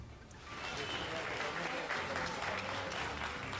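A crowd applauds to greet two IDF soldiers, a steady wash of clapping heard faintly and at a distance, with voices mixed in beneath it.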